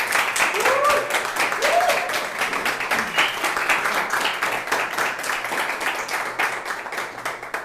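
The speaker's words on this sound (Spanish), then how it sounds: "Otro aplauso más y podemos dar." Audience applause at the close of a talk on free trade zones in Chile: dense, steady clapping throughout, with a voice faintly audible near the start.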